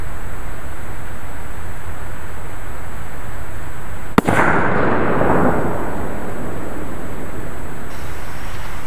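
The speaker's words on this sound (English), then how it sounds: "And when they blow, they're very loud," A power line cutout fuse link blows with one sudden, sharp, loud boom partway through, followed by a brief rushing decay, set against steady outdoor background noise and a constant high-pitched tone.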